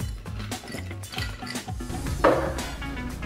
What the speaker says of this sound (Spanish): Vamos a rellenar de hielo.